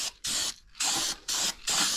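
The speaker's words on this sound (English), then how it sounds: "and I am spraying it right on top of that clear coat." Duplicolor white engine enamel sprayed from an aerosol can over clear coat in a car engine bay, three close hissing bursts of about half a second each separated by brief pauses.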